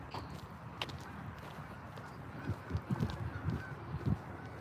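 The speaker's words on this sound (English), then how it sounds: "the ducks and everything" Ducks calling outdoors in a colourful open setting, a scatter of low honking quacks rising in the last couple of seconds over a steady background hiss, fairly faint and distant.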